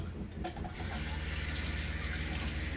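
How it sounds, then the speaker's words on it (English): Hot water running from a tap inside a caravan, a steady splashing gush that stays even throughout. "if we just go flick the tap on over here on hot"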